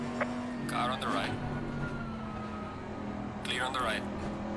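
A race car sweeps past on the right at Laguna Seca in Assetto Corsa Competizione, two brief whooshing bursts over the constant engine drone of the player's car, while a driver talks.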